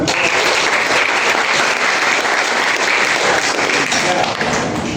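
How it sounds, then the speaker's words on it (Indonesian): A crowd applauds steadily throughout, a dense wash of clapping that stays loud and even from start to finish. "Bagus, tepuk tangan."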